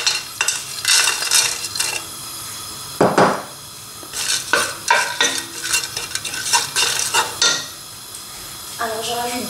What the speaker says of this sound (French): dans une marmite à fond épais, je vais mettre un tout petit peu d'huile d'olive. Et là, je vais mettre de l'ail